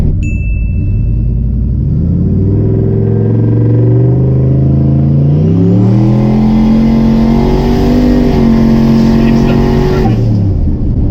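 1000HP GMC Sierra truck accelerating hard on a no-prep track, a loud close engine roar climbing through rising revs with a brief gear change, then dropping off at the end.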